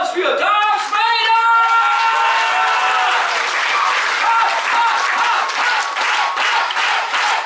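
A crowd at a Star Wars themed Legoland show bursts into loud, sustained applause and clapping after a brief voice at the start, close and filling the whole stretch.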